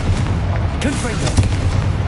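A Confringo blasting spell goes off in Hogwarts Legacy, a booming magical explosion with a rumbling low end that fills the whole moment, loud and close, while a voice speaks briefly over it.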